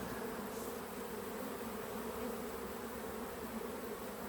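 Honeybees buzz steadily and fairly loudly as they are swept off a hive frame with a bee brush, a dense continuous drone with no pause and no talking over it.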